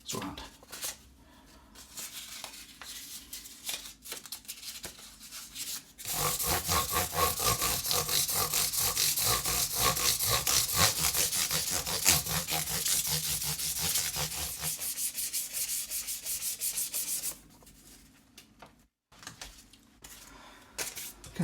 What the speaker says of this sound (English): Finally, in the sandpaper, is moving up to 1500 grit.